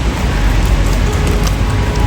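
Steady rain pours down close by as a dense, even hiss with no pauses, heavy and continuous throughout, and no voices are heard.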